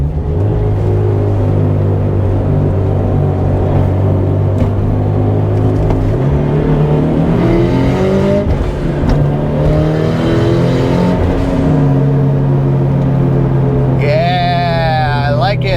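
A turbocharged Subaru BRZ with a screamer pipe revs on country roads, its exhaust rising and falling through steady engine harmonics with a loud, continuous drone; a high fluttering whoosh enters near the end, and a voice talks briefly over it.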